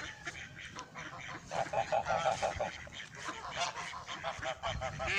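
An old farmyard goose honks repeatedly at close range, its nasal calls coming in short bursts, with ducks quacking nearby.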